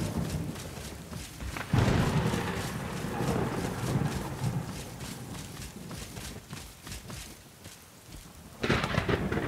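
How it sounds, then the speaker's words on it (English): Thunderstorm ambience from the game Skyrim: steady rain hiss with rolling, swelling rumbles of thunder, one big swell early on and another at the end, with no voices. "Ambiance, a little bit of thunder,"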